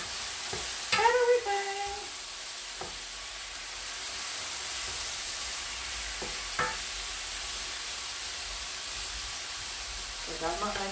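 Mushrooms with green and yellow peppers stir-frying in a pan, a soft continuous sizzle with a few clattering stirs and scrapes of the utensil, fairly quiet and close, no talking over it.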